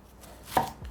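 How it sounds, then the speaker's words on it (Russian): A knife cuts a red onion into large segments on a board, a single crisp chop with a short thud, close and isolated. "Крупно нарежу красный лук на сегменты."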